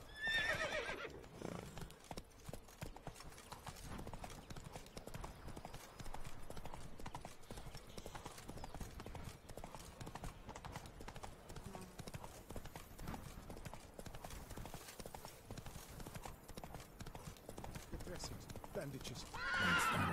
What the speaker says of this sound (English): Come on, Roach, you can do it. Run, Roach